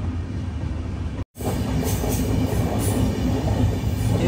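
The Island Express sleeper train runs on rails near Nagercoil Town station, a loud, continuous rumble of wheels and carriages with rhythmic clatter and a brief dropout, heard from on board without speech.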